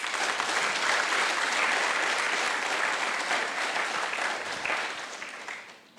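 An audience at a talk bursts into sustained applause to welcome a guest speaker, the clapping full and steady before tapering off near the end.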